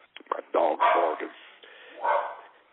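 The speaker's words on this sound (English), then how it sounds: "my dog's barking" A dog barks and yips in a short burst of several close, loud barks with whimpering tones, heard alone without talk.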